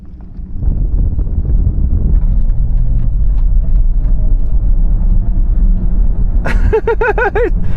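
A BMW XM in electric-only mode accelerates hard from 0 to 60 mph, a steady low road and wind rumble building throughout, with a brief high electronic whine near the end.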